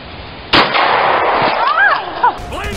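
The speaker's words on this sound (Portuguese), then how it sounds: "Dá um tiro nessa bagaça aí, velho." Gunshots in the video game GTA V come as a sharp loud burst followed by a sustained noisy rumble and a second crack, with a whooshing sweep and another pop near the end.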